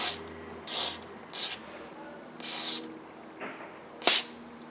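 Short bursts of CLP gun cleaner spray onto the bolt of a Mossberg 500 shotgun, five separate hissing sprays of varying length close to the mic, with quiet pauses between them.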